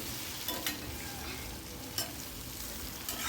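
Ridge gourd curry with red chilli powder stirred in a pan over the heat: continuous close frying hiss with a few sharp spoon scrapes and clacks against the pan.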